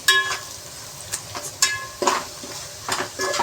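Spice powders being stirred as they fry in a pan for chicken biryani: close, brisk scraping and clinking of a spoon against the metal pan in quick irregular strokes over a light sizzle.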